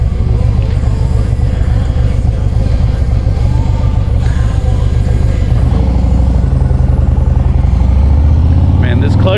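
The Milwaukee-Eight engine of a 2020 Harley-Davidson Street Glide rumbles with a loud, steady low-pitched throb while someone talks over it close to the microphone.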